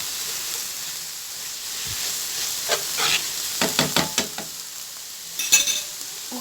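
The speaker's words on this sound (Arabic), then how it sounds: "ضروري كتخليو البصله باش كتطلق داك الماء ديالها وكتشحروها بحال هكا هي والفلفله" Chopped onion and pepper sauté in a pan with a soft, continuous sizzle, broken by a run of sharp scraping stirs and utensil clicks against the pan.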